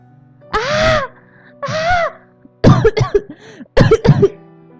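Several harsh coughs in bursts, the first two drawn-out and strained, followed by quicker clusters of hacking coughs, close and loud.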